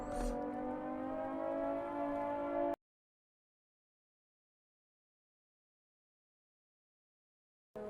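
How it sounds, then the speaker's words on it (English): Civil defense siren wailing steadily after a wave in Stormworks, a loud sustained harmonic tone lasting nearly three seconds, then cutting to silence before returning briefly at the end. "the siren was still going on"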